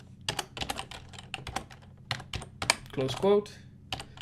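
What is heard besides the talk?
typing on a computer keyboard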